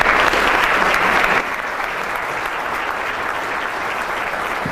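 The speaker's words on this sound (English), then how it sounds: "How about a big round of applause?" An audience at a monthly meeting presentation welcomes a speaker with loud, dense applause, heaviest for the first second and a half, then settling into steady clapping that carries on to the end.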